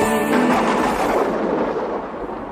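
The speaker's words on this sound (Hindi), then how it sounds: "आज बादल तो गरजने लगे, शायद इस बार अच्छी बारिश होगी।" Deep thunder rolling from storm clouds, a loud, long rumble that fades slowly over a couple of seconds, with no talk.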